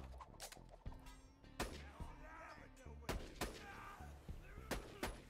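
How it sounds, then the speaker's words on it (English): Gunfire in the shooter game Borderlands 2, a series of sharp single shots spaced irregularly with booming low thumps and echoing tails, fairly faint overall, with no voice over it. "I'm just gonna start taking shots"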